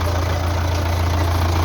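A Belarus 520 tractor hooked up to run a water borewell pump idles steadily, with a deep, even, close diesel drone and no change in pace.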